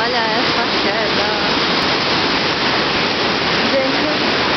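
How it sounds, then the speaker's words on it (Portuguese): Roar of Iguazu Falls from the upper circuit walkway in Argentina, a loud, steady, full-spectrum rush of falling water filling the whole clip with no break. "Olha essa queda. Olha essa queda."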